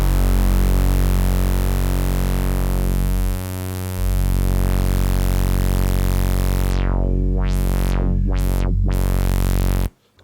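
A Roland JD-08 Boutique synthesizer sustains a loud, buzzy tone D while the filter cutoff sweeps, the harmonics dipping, rising and then rapidly closing and reopening several times before cutting off abruptly.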